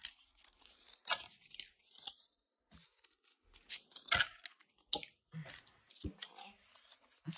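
Tarot cards are drawn and pulled from a shuffled deck, giving several dry papery slides, flicks and crisp card snaps spread through a quiet room, close and fairly soft.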